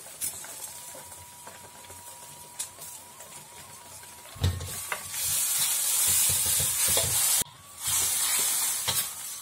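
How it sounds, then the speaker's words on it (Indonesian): Turmeric leaves, bay leaves, lemongrass and lime leaves are sautéed in a pan, starting with quiet stirring and clatter, then a sudden loud sizzle that holds steady, briefly cuts out, and resumes. "Kita tumis sampai sedikit harum."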